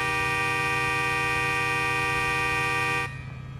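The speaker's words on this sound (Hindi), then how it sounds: "हॉर्न बजाता हूं" A steady, loud car horn in the video game Grand Theft Auto IV blares continuously for about three seconds, then cuts off abruptly, leaving a low engine rumble.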